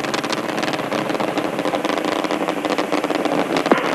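Space Shuttle Discovery's three main engines roar during the STS-51I launch in August 1985, a dense, loud, steady rumble with rattling texture throughout.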